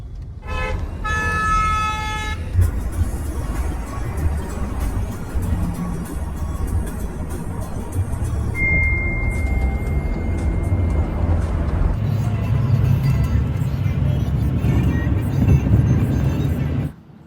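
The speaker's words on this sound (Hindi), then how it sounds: "बहुत ज़्यादा ट्रैफिक छै एखन रास्ता में" Heavy road traffic on a drive toward Pune, with loud horn toots standing out at the start and a long sustained horn later, over a continuous dense rumble of engines and passing vehicles.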